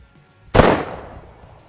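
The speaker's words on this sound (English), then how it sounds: "we just shot a 1-ounce slug at Bob." A single sharp 12 gauge shotgun blast fires a 1-ounce slug at body armor, one loud close crack with a quick decaying tail, preceded by near silence.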